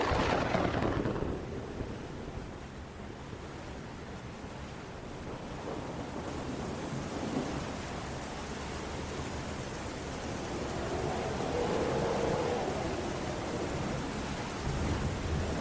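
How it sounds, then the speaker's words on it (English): Storm sound effect of thunder and rain, heard as a continuous broad roar of rain and wind with a louder rumble at the start and slow swells, no voices. "could not bypass the large storm headed in their direction"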